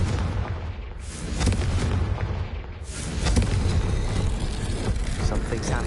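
A Confringo spell explosion in Hogwarts Legacy, two loud, dense booming blasts with rumbling debris, each swelling and lingering over the game's background sound.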